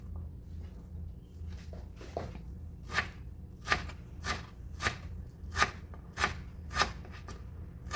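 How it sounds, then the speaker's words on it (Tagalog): Knife thinly slicing vegetables on a cutting board for a simple home-cooked dish, a series of about nine crisp, evenly spaced chops, sparse at first and then quicker, close and fairly faint. "So nipisan ko lang siya para mabilis maluto ba."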